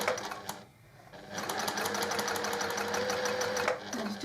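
A sewing machine stitches a zippered pouch along the zipper teeth in a close, rapid mechanical whirr, pausing briefly early on and then running steadily to the end.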